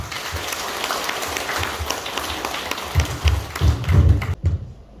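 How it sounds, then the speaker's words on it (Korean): An audience claps to welcome a computer professor lecturer at a talk for seniors, a steady wash of many hands that swells louder near the end, then cuts off abruptly. "자, 많은 박수 부탁드립니다"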